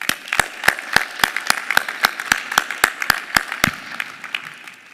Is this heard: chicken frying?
no